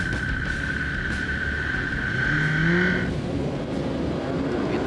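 Yamaha superbikes revving on the grid at the start of a race at Hidden Valley, Darwin, with a loud continuous engine roar that builds and then eases.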